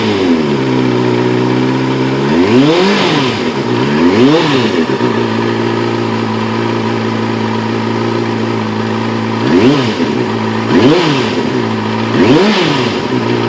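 A car engine idles steadily, then revs up and falls back in quick pairs of bursts twice, loud and close; it was reported running roughly, as if on only two cylinders, though it idles evenly here.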